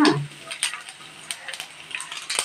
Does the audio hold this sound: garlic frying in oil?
yes